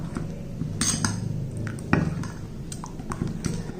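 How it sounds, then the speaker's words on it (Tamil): Utensils clink and scrape in a bowl as jowar flour, finely chopped vegetables and other ingredients are mixed by hand, a steady run of close metallic clatter with a sharper knock near the middle. "எல்லாத்தையும் மிக்ஸ் பண்ணிக்கிடுவோம்ப்பா."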